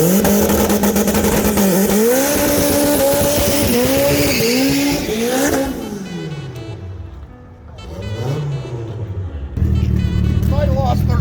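A 686-horsepower 1990 Acura Integra does a burnout, its engine revving loud and hard with rising and falling pitch sweeps and tire squeal. The engine then drops away and rises again.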